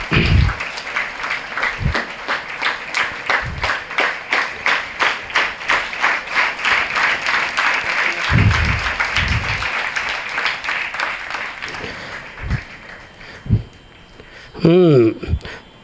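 Audience applause at a school scholarship ceremony in Bhanvad, Rajkot, a steady wash of many hands clapping in a hall, swelling and fading over about twelve seconds, with voices and a brief shout mixed in before it dies away.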